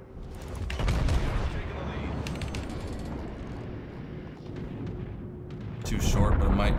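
Heavy battleship guns of the Iowa boom in World of Warships naval combat, a dense rumbling barrage that swells sharply near the end, with a voice talking over it.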